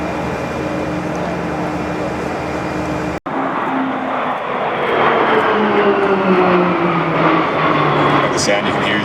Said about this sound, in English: The sound you can hear is the 1600 horsepower engine